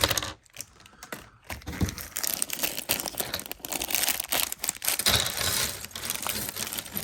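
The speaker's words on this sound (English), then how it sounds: "let's get past this rattling packaging" Plastic packaging from a LEGO City Police Car set (60312) crinkles and rattles as it is opened, a close, continuous crackling and rustling with sharp bursts throughout.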